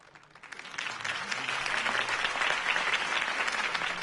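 Crowd applause for a campaign speech in the Batman Telltale Series video game, swelling in from quiet over the first half-second into sustained, even clapping that stays full to the end.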